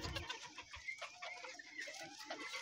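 Soft clucks and low bird calls from a white rooster on a ranch that is moulting its feathers, faint and close with quiet yard noise around.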